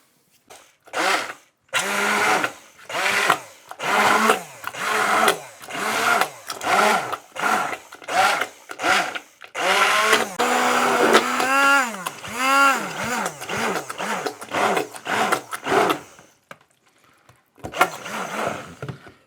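A blender blitzes cushaw squash soup with butter in loud pulsed bursts of motor whine that rise and fall in pitch, stopping briefly near the end before one last short burst.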